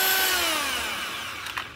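An electric drill spins a fan-motor generator, giving a high whine that glides steadily downward in pitch as it winds down, with a brief rattle near the end.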